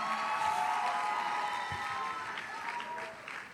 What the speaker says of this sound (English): the influencers are clapping for you